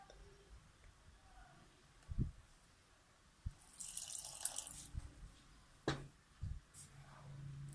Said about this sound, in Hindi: अब इसमें हम ये थोड़ा सा नीम गर्म पानी डालेंगे।